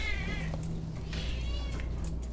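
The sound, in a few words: cat meowing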